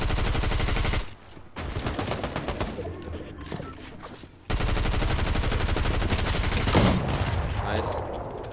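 Video game gunfire in a ranked squads battle royale match, with dense automatic bursts filling most of the stretch, a short lull partway through, then sustained rapid fire resuming loud and close.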